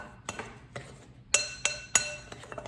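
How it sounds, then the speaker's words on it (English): Homemade bath bomb ingredients are stirred together in a container, making light scattered clinks and taps of a utensil against its side, fairly quiet and close. "Just give it a good stir to mix all the ingredients together"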